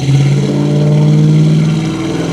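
A 1968 Ford Mustang's 2-barrel 289 V8 engine runs loud and steady with a deep, throaty rumble that swells slightly as it revs, close by with no talking.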